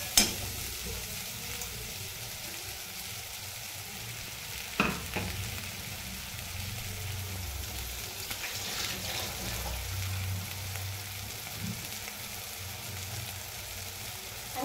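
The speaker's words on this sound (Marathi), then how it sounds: "आता पुन्हा आपल्याला 5 ते 6 मिनिटं छान असा मसाला भाजून घ्यायचा" Masala for a paneer curry sizzles and fries on the stove under a steady hiss for a long stretch, with a few clear spoon knocks and stirring scrapes close by, and occasional watery bubbling beneath.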